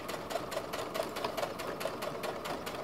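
A sewing machine bastes a bodice seam with a quarter-inch allowance. The stitching is a quiet, close, rapid rhythmic whir running steadily for about three seconds.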